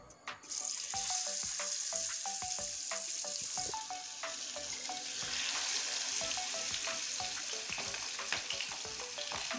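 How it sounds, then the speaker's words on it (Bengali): Large pada fish pieces dropped into smoking hot oil, giving a loud continuous sizzle with rapid popping and spattering crackles throughout, close up and with no voices. "এখন তেলটা গরম হয়ে গিয়েছে, আমি এখন এই মাছটা ছেড়ে দিচ্ছি।"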